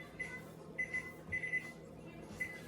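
A kitchen timer being set while eggs poach gives a series of close, high electronic beeps in short irregular pairs and singles over a faint room hum.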